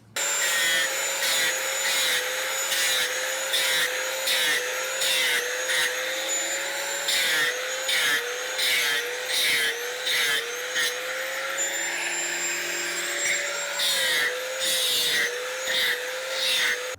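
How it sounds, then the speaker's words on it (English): A power tool scuffs the backs of drilled metal mounting plates for solar panels, giving a loud, steady whine that is broken by regular short pauses and rhythmic bursts as the tool passes over the metal. It runs alone, with no talking. "Now I need to scuff the back of these plates so they adhere better."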